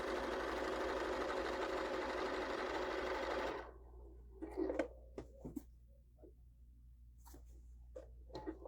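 Sewing machine tacking down quilt layers for a quilt-as-you-go table runner, a close steady hum of stitching for several seconds that stops abruptly, followed by soft handling clicks and rustles.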